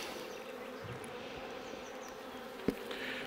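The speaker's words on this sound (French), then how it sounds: "de secouer le cadre d'abeilles, ça ne va pas les tuer" A soft, steady buzzing of many honeybees on a hive frame close by, with a brief knock partway through.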